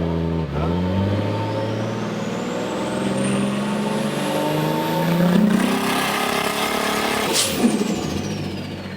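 Nissan S15 Silvia with a turbo engine and 8HP70 transmission held on a trans brake at a racetrack, loud sustained revving with rising and falling pitch and a sharp pop near the end.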